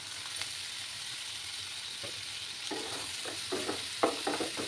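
Chopped tomato going into spices frying in a pan for a Bengali small-fish chorchori with potato and onion shoots, a steady low sizzle with stirring scrapes growing louder and choppier toward the end, no voices.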